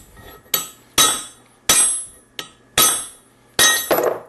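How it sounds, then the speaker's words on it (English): A hardened steel hammer strikes an aluminum bronze ingot six times, each blow a sharp, loud metallic clink that rings briefly before the next. The strikes come at uneven intervals, and the last one leaves a longer, rougher ring. "We're going to do the hammer test."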